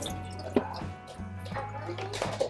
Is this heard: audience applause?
no